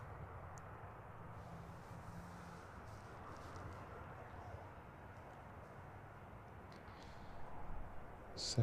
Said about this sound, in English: Second Ryanair 737 emerging from the maintenance area on the far side of the runway.